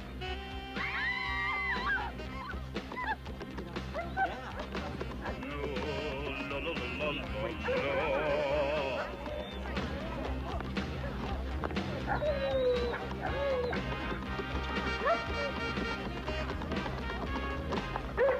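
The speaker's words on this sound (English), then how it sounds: "Dog." A dog barks, yips and whimpers excitedly while searching for a missing woman in a 1989 comedy film, its cries mixed with scurrying movement, background film audio and brief voices.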